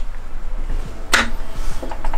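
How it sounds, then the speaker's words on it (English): A Jerico 4-speed dog-engagement racing gearbox is shifted by hand on the bench, producing one sharp metallic clunk mid-clip amid light mechanical clicks and knocks, close by with no talking. "I'll give it a shift, see if I can get this thing to shift gears"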